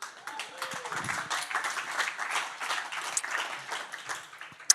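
An indoor audience at an awards event breaks into sustained clapping and applause that swells and continues for several seconds, with a brief voice at the start.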